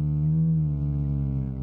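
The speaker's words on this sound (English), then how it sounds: "Increasing the rate shifts its output from delicately placed pings to aggressive audio rate" A Noisering Eurorack random source clocking filters at audio rate gives a steady, buzzy harmonic tone, loud and close, holding one low pitch with rich overtones for under two seconds.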